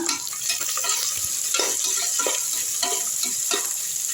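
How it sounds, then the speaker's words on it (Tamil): Onions sautéed in a pan with curry leaves, a steady close sizzle under intermittent stirring strokes and light utensil scrapes. "வெங்காயத்தை போட்டுடலாம். நல்லா வதக்கி விட்டுருங்க."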